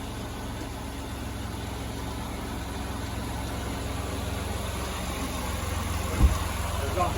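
A high-mileage van engine idling after repair, a steady low rumbling drone with an even throb throughout, one brief knock near the end, and people talking over it.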